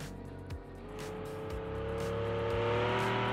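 A V16-engined car in BeamNG drives under power, its engine tone rising steadily as it accelerates, with a few thumps early on and the drone growing louder toward the end.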